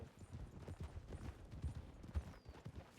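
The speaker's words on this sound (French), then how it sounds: "je vais commencer à descendre à cheval" Horse hooves clip-clop in a steady walking rhythm, fairly quiet and close, with faint background noise.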